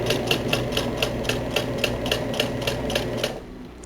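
A sewing machine stitching a pair of summer shorts runs in a fast, even rhythm of mechanical clacks close by, then stops near the end.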